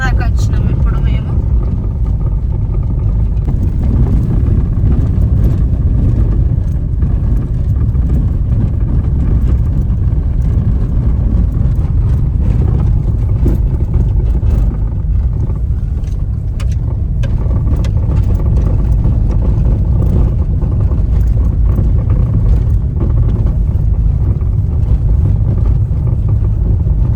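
Steady, loud traffic noise from vehicles moving along a road, a continuous engine rumble with passing swells throughout.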